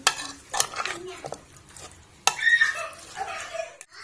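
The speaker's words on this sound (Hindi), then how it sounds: "अच्छे से मिक्स कर लेंगे।" Chicken korma spice mix of turmeric powder and ginger-garlic paste being stirred in a pan, with scraping and clinking of a spoon against metal in irregular bursts and a light sizzle beneath.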